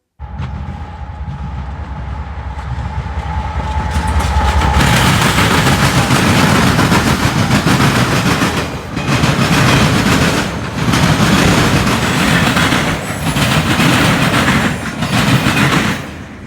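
A CSX freight train led by AC44 and GEVO locomotives roars past loudly and close, with a rising engine rumble followed by steady rolling clatter and rhythmic wheel clacks over rail joints.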